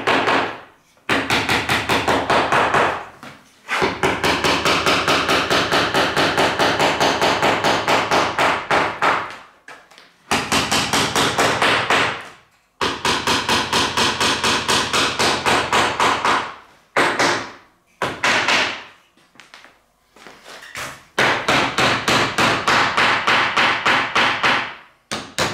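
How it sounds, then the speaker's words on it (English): Rapid, loud metal hammer tapping during restoration of an 1865 Forster & Andrews pipe organ comes in long sustained bursts separated by brief pauses, the strikes dense and insistent. "I'll tell you what, I'm going to use this metal hammer."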